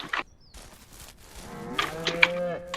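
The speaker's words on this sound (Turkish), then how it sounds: "Şimdi inekler." Several cows moo one after another in the video game Ranch Simulator, their low drawn-out calls overlapping, with soft clicks and a brief higher tone early on.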